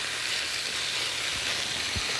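Steak stir-fries in a hot pan with a close, constant sizzling hiss and a couple of brief low bumps from the pan or utensil.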